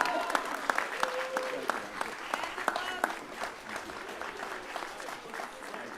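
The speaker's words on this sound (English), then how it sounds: "let's stand and give him a round of applause" Applause at a university commencement for a retiring psychology department chair with 40 years of service, a moderate crowd clapping with scattered louder claps, the sound thinning slightly toward the end, with faint voices mixed in.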